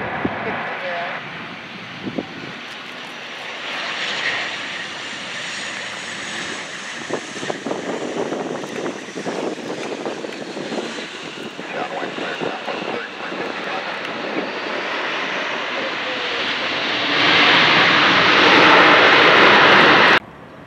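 Vintage piston aircraft such as a B-25, B-17 or P-38 run their engines at SNA airport, a steady droning roar that swells loudly near the end, with radio chatter heard over it.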